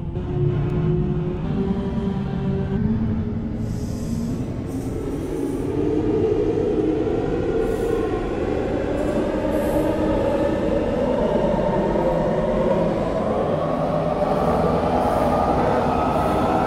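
A London Underground Jubilee Line train in a Roblox game rolls along in a steady, loud rumble with rising whine and faint high wheel squeals, no talk.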